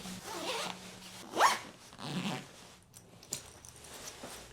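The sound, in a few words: zipping up a packing cube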